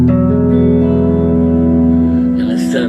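Electric guitar played through the clean channel of a 22-watt all-tube amp, sustained chords ringing out loudly and continuously with slight early breakup, fading toward the end with a brief noise burst.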